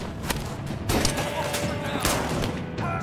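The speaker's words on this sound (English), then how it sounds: "Just keep firing." Gunfire in the As Dusk Falls video game during a standoff, with sharp repeated shots and bursts over steady noise under raised voices.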